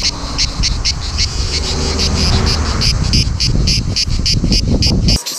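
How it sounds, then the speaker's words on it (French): Cicadas near Cassis in the south of France buzz loudly in a fast, steady pulsing rhythm that continues throughout, with low rumbling background noise underneath. "Allez, un peu moins fort les cigales, un peu moins fort."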